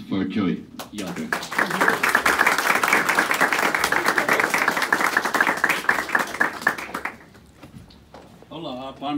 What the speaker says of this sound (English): A clap of hands for Joey Yoder.